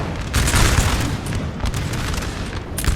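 Artillery booms in the Napoleon Total War battle game, with heavy rumbling cannon blasts that overlap in a dense, continuous barrage and a sharper report near the end.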